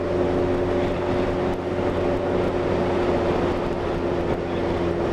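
A Honda CBR1000F motorcycle engine fitted with a non-standard aftermarket exhaust, running steadily with a deep, continuous drone and strong low harmonics, loud and close for the whole stretch with no talk.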